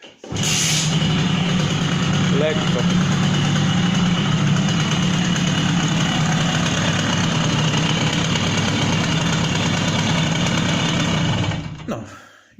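A small two-stroke Simson S51 moped engine, freshly rebuilt, warmed up and fitted with CDI ignition, catches after a quick start and settles into a steady, buzzing idle that runs on before cutting off; a voice briefly speaks early on.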